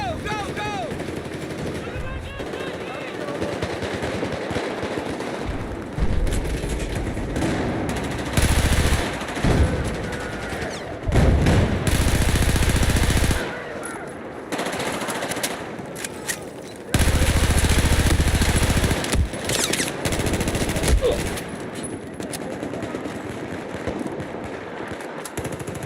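Machine gun fire in online Battlefield 4 multiplayer combat, long loud bursts and scattered gunshots over about half a minute, with explosions and a player's voice talking at times.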